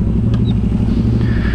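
Aprilia RS660 motorcycle with an aftermarket Arrow exhaust idling close by, a loud, steady, throbbing low rumble with even pulsing beats held throughout, no voices over it.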